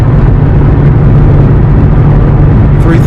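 Volkswagen Touareg TDI diesel engine in 5th gear, towing a load uphill on a mountain road at about 3,000 RPM, gives a steady, loud low drone with road noise throughout.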